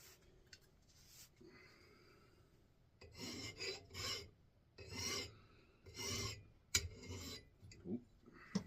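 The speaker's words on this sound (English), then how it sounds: "I'm going to go at this edge with a file." A metal file rasps along the edge of an axe clamped in a vise, with slow rhythmic back-and-forth strokes, about half a dozen, close and clear in a quiet room.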